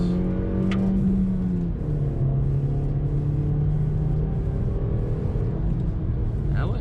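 Engine hum of a 2022 Nissan Versa S with a five-speed manual, steady drone whose pitch drops after a gear change partway through, constant road rumble underneath.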